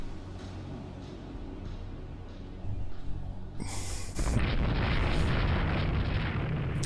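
Naval gunfire in the warship strategy game Rule the Waves 3: a low rumbling bed jumps into a louder, sustained roar of heavy booms and blasts that carries on without talk.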